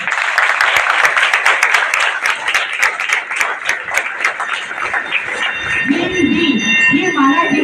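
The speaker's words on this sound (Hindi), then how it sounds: "तो हिंदी के लिए जोरदार ताली" An audience claps loudly and rhythmically in unison at a Hindi language day event. Near the end the clapping gives way to a voice speaking.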